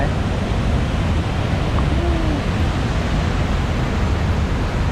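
Rushing water at the Chae Pong Lai waterfall in Attapeu makes a dense, loud and unbroken broadband roar from start to finish.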